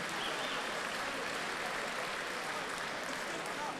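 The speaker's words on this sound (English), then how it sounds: "How about a big round of applause?" Big-round applause from a boxing crowd after a hard eight-round fight, a steady, dense wash of clapping that holds evenly across the whole stretch without pause.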